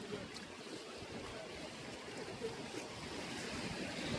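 Flowing water near a dam, where fish are being washed, makes a faint, steady rushing wash with no break.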